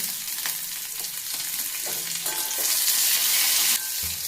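Chopped onions tipped into hot oil in a pan, where fried baby corn has just come out, sizzle loudly and steadily, with a few clinks of stirring and the frying growing brighter near the end.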